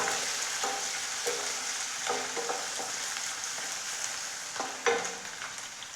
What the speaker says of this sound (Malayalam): ഇനി നമ്മൾക്ക് ഇതൊന്ന് ഇളക്കിയിട്ട് ചെറുതായി ഒന്ന് റോസ്റ്റായി എടുക്കാം